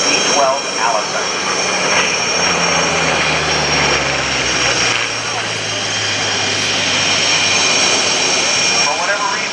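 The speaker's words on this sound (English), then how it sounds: "Listen to the sound of this piston engine. Not a radial, liquid-cooled V12 Allison." A loud liquid-cooled V12 Allison piston aircraft engine roars steadily throughout at an airshow, with a rising, whining pitch as the plane dives and passes close by.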